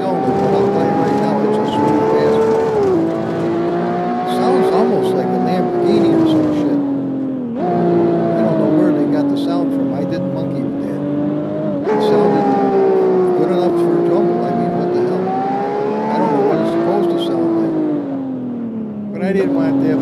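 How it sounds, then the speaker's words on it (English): A smooth six-cylinder race car engine on the Ring track, loud and close, its note climbing and then dropping sharply at each gear change across repeated rising pulls. "Listen to how smooth that engine is. I think it's only a 6-cylinder"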